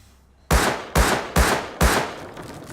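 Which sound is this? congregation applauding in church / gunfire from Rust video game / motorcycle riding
gunfire from Rust video game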